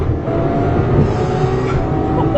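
A Ferrari 812 V12 engine on the road, sustained and loud, with a steady high-revving tone holding strong throughout the short stretch.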